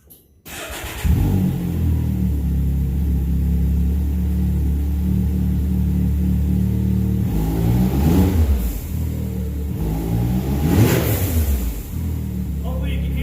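A Can-Am Maverick X3 side-by-side fitted with an Evo Powersports blow-off valve starts and idles with a deep steady rumble, then revs twice, each swelling and releasing in a loud close whoosh.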